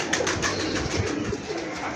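A female Teddy racing pigeon coos up close, low throaty burbling calls repeating over a couple of seconds against steady background noise, with no talk.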